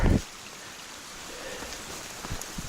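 Steady rain pours onto a wooded hiking trail on the Georgia section of the Appalachian Trail between Woody Gap and Gooch Gap, a soft continuous patter after a brief bump, with a few nearer drips and no speech.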